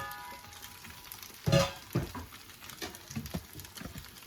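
Eggs hitting a hot pan for breakfast burritos, giving a brief loud sizzle burst followed by quieter crackling and a few stirring scrapes, with no talk.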